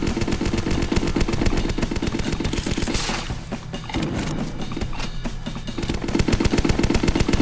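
A minigun in an .io browser game fires in a dense, continuous rattle of rapid shots, loud and close, with a short, slightly thinner patch midway before the stream returns at full strength.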